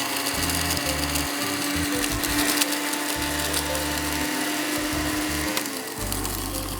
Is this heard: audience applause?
no